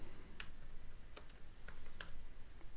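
Sparse keystrokes on a computer keyboard while coding a Forge mod for Minecraft: a handful of soft, scattered clicks at uneven intervals over a quiet background, with no voices.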